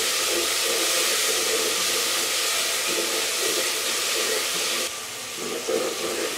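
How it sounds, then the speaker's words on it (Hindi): Tomatoes sautéing in a pan for aloo gosht: a loud, steady sizzling hiss runs throughout, easing slightly near the end. "और मैं इसको अब तकरीबन 2 से 3 मिनट तक भूनूंगी"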